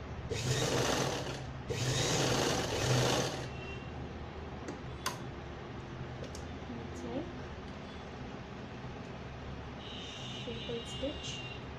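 A sewing machine runs a simple long stitch in two quick bursts of rapid, close mechanical whirring, then stops. A soft voice talks quietly in the background after the stitching.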